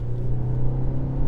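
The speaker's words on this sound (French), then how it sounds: "Le petit 4 cylindres qui se fait entendre." A 2023 BMW X1 with a four-cylinder engine drives along, giving a steady, even low drone that holds at moderate loudness throughout, with no talking.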